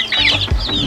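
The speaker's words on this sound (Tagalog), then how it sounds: "yung manok natin na tandang" A rooster on a small farm clucks in a few quick, close, fairly loud bursts, with no one speaking.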